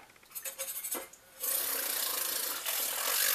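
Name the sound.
small milk frother running in a pot of water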